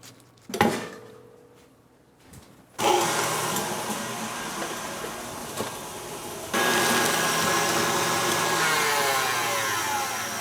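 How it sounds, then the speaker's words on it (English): An electric mixer whips butter in a wet bowl. After a couple of soft knocks its motor kicks in with a loud, steady whirring drone, then jumps to a higher, stronger speed for the rest of the time. "Trying to get this butter whipped and beautiful, but the bowl's wet."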